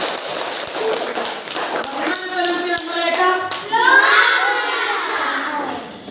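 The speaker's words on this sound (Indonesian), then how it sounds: "Tepuk tangan dulu untuk kelompok mereka" A school class claps for a group's performance, a dense patter of many small hands mixed with children shouting and cheering. A teacher's voice speaks over the clapping partway through.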